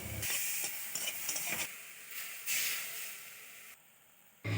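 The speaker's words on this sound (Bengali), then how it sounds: "এবার কাঁকড়াগুলো ভেজে নেব।" Crabs frying in a pan of hot oil, a steady bright sizzle with bursts of crackle and stirring, loud and close, dropping to a quieter hiss near the end before flaring again.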